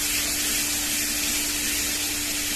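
Onion and cashew paste hits hot oil in a pan, producing a loud, unbroken sizzling hiss that holds steady and close throughout.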